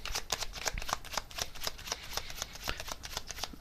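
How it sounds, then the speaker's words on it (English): Tarot cards are shuffled by hand in a quick, crisp series of riffling flicks and soft taps, close and continuous with no talking. "I'm just going to get one more tarot card here on this."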